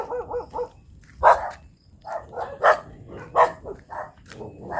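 Several sharp dog barks come in bursts from nearby in an outdoor spot with a mango tree, spaced roughly every second and separated by quieter gaps, with a few softer yips mixed in.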